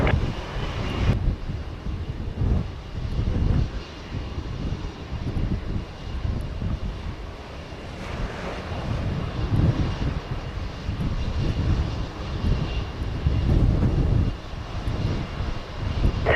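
A WestJet airliner on approach to runway 07 at Montego Bay, Jamaica, its engines giving a steady, fairly loud rumbling roar that swells and eases slightly throughout, with wind noise and no talk.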